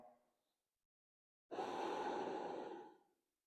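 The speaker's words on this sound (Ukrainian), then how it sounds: "Дихаємо повно." One long, deep exhale during a yoga twisting sequence, close and steady for about a second and a half, following a brief moment of a voice and a pause of silence.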